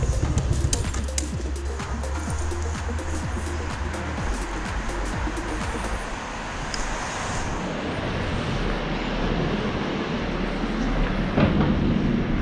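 An electric tram passes along a street in Portugal, a loud, continuous rumble and rattle with scattered metallic clacks lasting about twelve seconds, with no talk.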